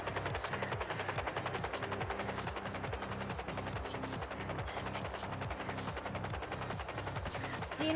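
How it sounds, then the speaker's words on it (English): A helicopter in the GTA video game, heard as a steady rhythmic rotor throb with a low pulsing beat and a constant hum, loud and continuous for the whole stretch. "I saw that chopper as well."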